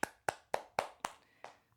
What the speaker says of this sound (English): Giving you all the claps.